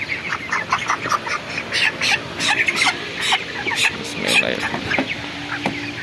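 Sonali chickens on a poultry farm cluck and call repeatedly, close and fairly loud, in a busy overlapping chorus.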